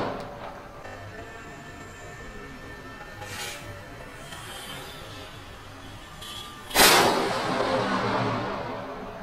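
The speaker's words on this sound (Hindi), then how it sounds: "दिवाली वाली गन बनाई है इसीलिए यहाँ पे मैंने इसमें पटाखा डाल करके चलाया है" Outdoor hiss and background noise, then a sudden loud bang from a small homemade Diwali firecracker pistol loaded with a firecracker, followed by a lingering noisy rush.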